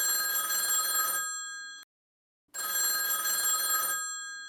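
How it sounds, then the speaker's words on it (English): An old-style telephone bell rings in two long bursts separated by a brief silence, each ring a bright metallic trill that fades slightly at its end, with no one speaking. "the phone began to ring again."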